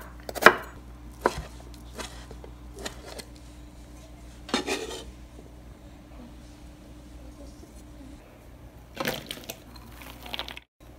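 A knife slices salted salmon lengthwise on a cutting board for a Hawaiian lomi lomi dish, with a few faint, scattered chopping taps and soft kitchen clatter in a quiet room.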